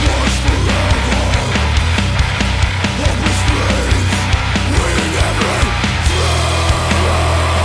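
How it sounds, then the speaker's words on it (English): Heavily distorted, sludgy old school death metal guitar played through a cheap small practice amp, loud and dense, with chugging riffs and driving drum hits throughout. "into a sludgy and dirty old school death metal sound like this"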